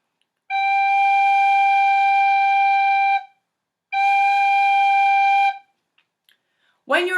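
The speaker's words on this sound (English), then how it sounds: "When you are playing the tin whistle," Two sustained Irish tin whistle notes, each a steady bright pure tone lasting about three seconds and separated by a short gap, followed by a brief rustle.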